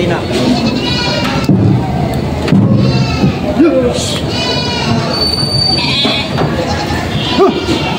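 Several goats and sheep bleat repeatedly at close range at a livestock market in Padre Garcia, Batangas, their calls overlapping with people talking nearby over a steady outdoor background.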